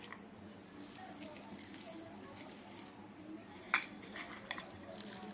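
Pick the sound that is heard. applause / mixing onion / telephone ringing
mixing onion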